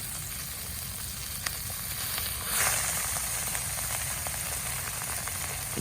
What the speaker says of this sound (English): Sear the side of it.